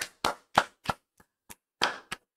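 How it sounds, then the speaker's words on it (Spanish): A few sharp, separate hand claps from the small group on a podcast recording, eight uneven close-up claps spread over about two seconds with silence between them. "Un aplauso, chicos. Un aplauso para las mejoras."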